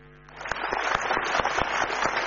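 Audience applause fills a seminar hall as listeners clap together, starting softly and quickly swelling into steady, dense clapping that continues throughout.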